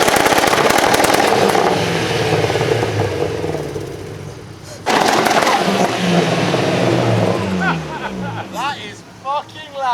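Abarth car engine at a car show revving hard and loud up close, a sustained roar that drops off and then blares again, with excited voices and crowd chatter under and after it.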